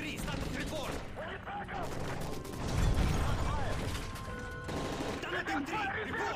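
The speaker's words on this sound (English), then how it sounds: "That's gunfire!" Gunfire in Call of Duty: Modern Warfare 3 during a plane hijacking scene, with rapid automatic shots mixed with crashes and shouted voices over a loud, dense battle.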